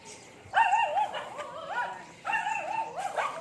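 A dog on a residential subdivision street in Valenzuela City makes a few yips and whimpering barks in two short bursts, at moderate distance over quiet outdoor background.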